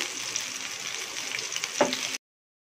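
Cashews sizzle gently in a hot pan while cooking sambar rice, with a brief scrape or stir near the end before the sound cuts off.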